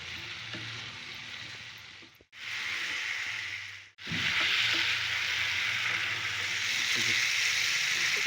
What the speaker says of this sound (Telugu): ఫ్రై చేసిన గోబీ ముక్కల్ని వేసి స్టవ్ని హై ఫ్లేమ్లోనే పెట్టి 2 నుండి 3 నిమిషాలు ఇలా ఫ్రై చేయాలి